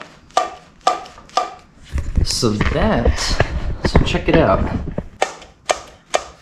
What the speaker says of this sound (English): that is the sound of the slide moving up and down and echoing out of the airbox here